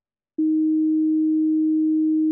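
Distortion anomaly tone in the horror video game I'm On Observation Duty 4: after a brief silence, a loud, pure, steady hum starts abruptly and holds unchanged to the end.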